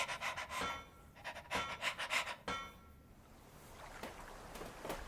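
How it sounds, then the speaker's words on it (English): Heavy, rhythmic panting breaths in a submarine in a video game, several harsh broadband gasps in quick succession, then quieter, fainter breaths trailing off. "Strange sounds in this submarine. It sounds like someone's breathing like"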